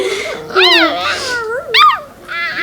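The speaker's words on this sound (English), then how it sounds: "I don't know what kind of noise or where this kind of noise came from, but that's her bark" A special-needs dog making odd high, warbling yips and whines that rise and fall in pitch, sounding almost like a chirping bird, close and loud.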